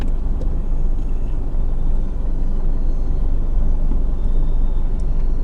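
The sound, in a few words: 4x4 car descending off-road hill using hill descent control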